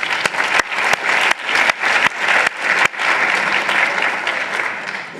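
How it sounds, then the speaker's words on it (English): Audience at a research meeting applauds the scribes and moderators, a dense steady clapping that is loud and close and runs the full length without voices on top. "So let's give them a round of applause."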